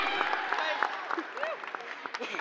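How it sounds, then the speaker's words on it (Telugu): A media audience claps after an invitation for a round of applause, the scattered claps sharp and uneven over a murmur of talk. "గట్టిగా క్లాప్"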